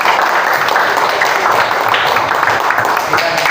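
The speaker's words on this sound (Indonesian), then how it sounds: "Kita berikan tepuk tangan untuk Pak Miftah Nurda." Schoolchildren clapping together in a loud, dense wash of applause that stays steady and close from start to finish.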